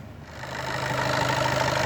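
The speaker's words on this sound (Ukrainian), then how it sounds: "Ось так працює двигун." A 2014 Skoda Octavia 1.6 TDI diesel engine idles nearby with a steady low, slightly rattling drone that holds even throughout, no talking.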